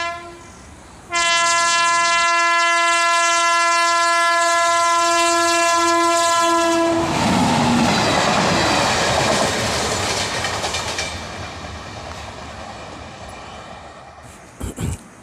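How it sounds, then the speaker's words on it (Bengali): A train near Purulia in Bankura at sunset sounds a long, loud multi-tone horn, then its engine rumble and wheel clatter roar past, fading gradually with a brief clank at the end. "দূর থেকে ছুটে আসা এক ট্রেনের ইঞ্জিনের আওয়াজ"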